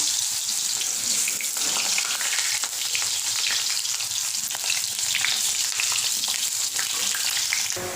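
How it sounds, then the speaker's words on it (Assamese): Potato pieces fry in hot oil in a wok, giving a dense, continuous bright sizzle with crackling spits throughout, close and fairly loud with no voices. "এতিয়া মই আলুকেইডোখৰ ফ্ৰাই কৰি ল'ম।"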